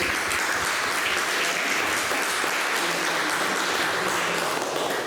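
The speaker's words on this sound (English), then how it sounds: "Can you give them a round of applause for all of their..." An audience at a gallery talk on printmaking applauds the co-curators of an exhibition, a soft but continuous patter of many hands clapping at moderate distance, alone and even throughout.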